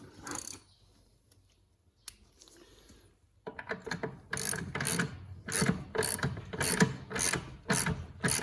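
A hand ratchet tightens bolts during a Porsche 987 Boxster rebuild: after a quiet start, steady close clicking bursts repeat in quick rhythmic strokes in a garage.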